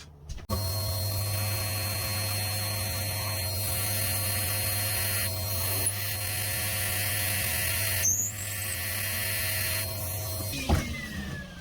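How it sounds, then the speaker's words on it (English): A pillar drill press on a DIY compact table hums steadily while the bit bores into material, with a sharp start, shifting whine partway through and a clunk near the end. "I'm free to turn the drill on, drill the hole"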